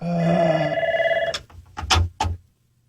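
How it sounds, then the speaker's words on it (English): A telephone bell rings with a sustained tonal buzz that cuts off, followed by a few short clattering handset sounds in a radio studio. "One ringy dingy."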